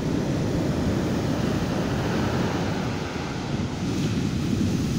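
Sea surf rolling onto the central beach at Nha Trang at midday before a storm, with waves building toward three metres; a steady, loud roar of breaking water mixed with wind buffeting the microphone throughout, no voices.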